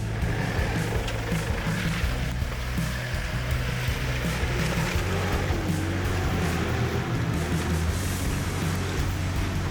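A Mitsubishi Pajero SFX strains in third gear up a long, slippery off-road slope, its engine droning loud and steady with wheels spinning throughout, no voices over it.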